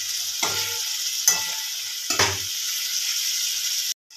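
Home-style Marathi chicken masala with mint and coriander stir-fried in a pan, a steady hiss of frying broken by three distinct scraping stirs spaced about a second apart, close and fairly loud, ending abruptly.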